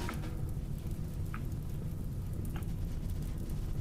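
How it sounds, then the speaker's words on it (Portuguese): Rain in the video game RimWorld, a dense, steady hiss of rainfall with a low rumble underneath and a couple of brief faint ticks standing out, no speech. "Chuva. Sempre chove, sempre chove."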